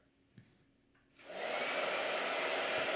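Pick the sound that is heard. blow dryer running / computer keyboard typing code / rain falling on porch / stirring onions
blow dryer running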